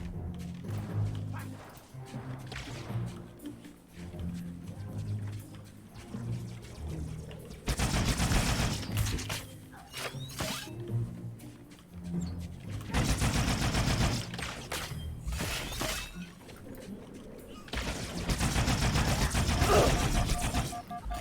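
Automatic and burst weapon fire from Halo 2's campaign, dense volleys swelling loud and dropping back over steady game noise, with heavy repeated blasts clustering mid-clip and again near the end.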